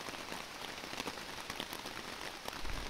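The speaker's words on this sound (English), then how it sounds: "as soon as I got done with all of my chores, it started pouring rain, so good timing" Heavy rain pours steadily on a hammock at a trailside camp, a dense close patter of drops on the fabric with no voices.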